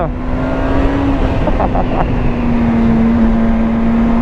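A 2008 Suzuki GSX-R 750 motorcycle ridden on a track, knee sliding through a corner, its engine holding a loud steady drone throughout with a brief burst of higher-pitched pulses midway.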